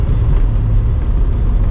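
A classic Rover Mini with stiff rubber-cone suspension is driven along, giving a loud, close, steady low engine and road rumble inside the car that continues without pause and carries no speech.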